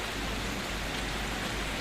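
A steady, even hiss of artificial rain pouring down at the Al Falaj Hotel in Muscat, Oman, uniform throughout, with no voices or other sounds standing out.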